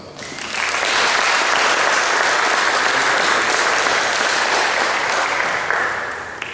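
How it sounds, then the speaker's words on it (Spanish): An audience at an academic conference bursts into loud, sustained applause that swells quickly, holds steady for several seconds and tapers slightly at the end; no one speaks over it. "Lo recibimos con un aplauso."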